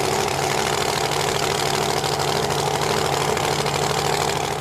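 Supercharged Pro Mod drag racing cars with big blowers idle side by side at the strip, a loud, dense, steady rumble with rough mechanical chatter running unbroken throughout.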